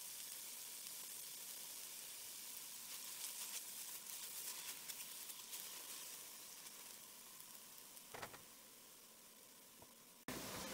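Food softening in a pan on the stove gives a faint, steady sizzle for several seconds, with a brief clatter near the end and no talking.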